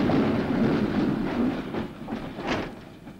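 Freight wagons roll and clatter through a 1950s Reichsbahn marshalling yard, a dense rumble of wheels on track with a few sharper knocks, heard nearby, steady then easing off.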